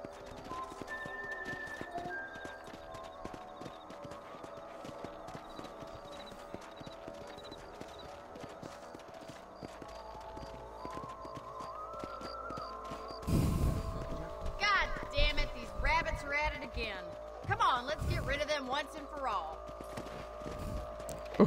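A horse's hooves clip-clop in Red Dead Redemption on Xbox 360, first under soft background music, then as loud, close, uneven hoof strikes in the final seconds, with a whinny-like sound mixed in.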